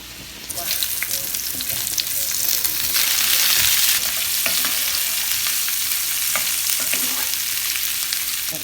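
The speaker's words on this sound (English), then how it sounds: "we're going to fry our andouille" Loud, steady sizzling of andouille sausage frying in a hot greased skillet, with occasional pops and the scrape of a utensil stirring.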